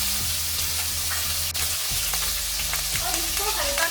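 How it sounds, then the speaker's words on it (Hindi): Cubes of paneer fry in a little hot oil in a kadhai, giving a continuous close sizzle and crackle with occasional stirring clinks, over a low steady hum. "इसको हल्का सा गोल्डन होने तक फ्राई करेंगे"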